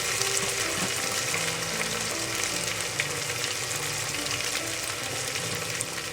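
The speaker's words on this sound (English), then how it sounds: "So now I will add the turmeric." Turmeric goes into hot oil in a pan for an Indian moong masoor dal, a loud continuous sizzle and crackle of frying close up, with no voices.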